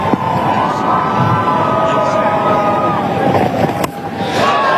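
Ireland fans in a cricket crowd at an India vs Ireland match cheer and roar in a loud, continuous wash of massed voices, with whistles and shouts rising over the steady stadium din.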